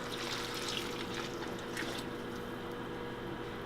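Water is poured steadily into a pot of enchilada seasoning in a home kitchen, a continuous trickling splash close by with no talking.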